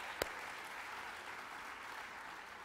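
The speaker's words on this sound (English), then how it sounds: "let's give them all a round of applause." A college event crowd gives a steady, even wash of applause that sounds fairly distant, with one sharp louder clap near the start.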